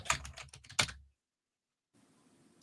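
Rapid clatter of keys on a computer keyboard during a live chat stream, a dense burst of typing for about a second, then silence with faint background hiss.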